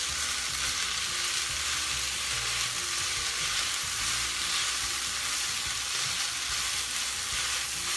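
Lo mein noodles and vegetables fry in a hot pan for chicken lo mein, giving a steady, dense sizzle that holds at an even level throughout with no talking.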